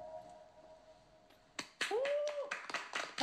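Studio audience at a Korean idol dating show bursts into clapping after a quiet stretch with a faint tone, sharp uneven claps close by over about a second and a half.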